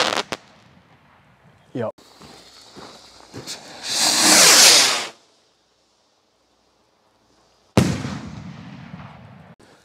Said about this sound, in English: this is rocket number two in the pack, Radioactive, king of all rockets.